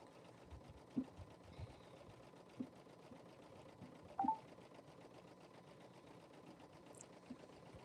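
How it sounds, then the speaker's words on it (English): Embroidery machine stitching, a faint steady mechanical hum with a few soft clicks and taps, distant and continuous in a quiet room. "While we're waiting for that to machine embroider"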